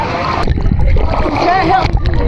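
Artificial waves churn and splash in a wave pool, a loud continuous wash of water with people talking over it.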